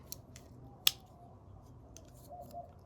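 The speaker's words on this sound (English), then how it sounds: "scissors" A single sharp metallic snip of small pocket knife scissors opening, close by, with a few faint clicks around it in a quiet room.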